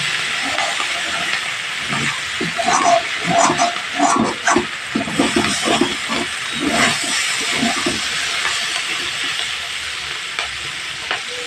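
Eggplant pieces frying in hot oil, one batch at a time, for a Bengali home recipe: a steady, close sizzle with crackling bursts and occasional spattering pops, heard alone with no talk.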